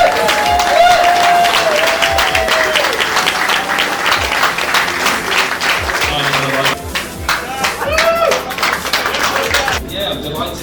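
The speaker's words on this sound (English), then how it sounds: "if you can just give a big round of applause." After a contract signing, a crowd breaks into a loud round of applause with cheers and whoops, the clapping thick and continuous before thinning out near the end while voices call out over it.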